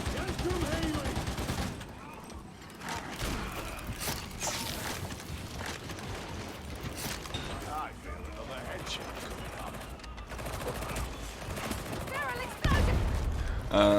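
Sustained bursts of gunfire and weapon clatter from a Warhammer 40K Darktide battle, dense and loud throughout, with a heavier blast near the end and a voice speaking under the shooting.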